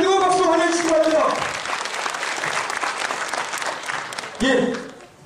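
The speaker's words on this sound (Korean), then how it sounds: "대구 경북 동지들 뜨거운 박수로 환영해 주시기 바랍니다." A hall of labor activists breaks into warm applause, a thick, sustained roar of clapping that follows a speaker's voice and fades as he begins talking again.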